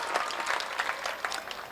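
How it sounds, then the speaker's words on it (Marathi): An audience at a religious sermon gathering breaks into brisk applause, dense overlapping clapping at moderate volume throughout the short moment. "त्यांच्यासाठी जोरदार टाळ्या।"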